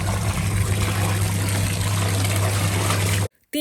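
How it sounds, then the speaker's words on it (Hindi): A curtain dipped and swished up and down in a tub of water mixed with hair conditioner, a steady close sloshing and trickling that runs continuously for about three seconds, then stops abruptly. "और इस पानी में आपने अपने कर्टन को डिप कर देना है"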